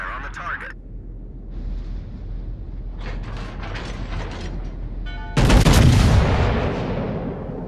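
Iowa battleship main guns firing in World of Warships, a dense burst of loud explosive booms about two-thirds through, after a stretch of quieter mechanical clatter and game effects.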